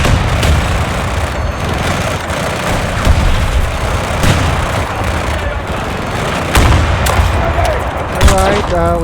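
Dense gunfire in the Battlefield 2042 shooter game, rapid overlapping shots and booms forming a loud continuous barrage, with a player's voice briefly over the fighting.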